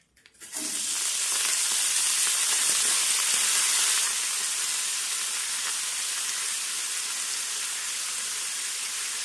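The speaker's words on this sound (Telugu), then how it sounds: "ఈ టైం అంతా పోయి మంచిగా వేగేదాకా వేపుకోవాలి ఈ పాలకూరని" Chopped spinach fries in a couple of tablespoons of oil in a pan, giving a loud, steady sizzle that begins abruptly, holds strong, then eases slightly and continues evenly with no voices.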